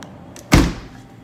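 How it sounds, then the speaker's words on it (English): A single solid thunk as the door of a smart refrigerator for fresh food is swung shut, close and sharp with a brief low rumble fading out, otherwise quiet. "I'm going to take my products and then I'm going to close the door behind me."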